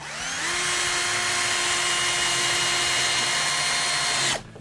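A power drill drives screws to join wooden slat frames, one loud sustained whirring run with a steady rising pitch that stops abruptly, heard close up and alone.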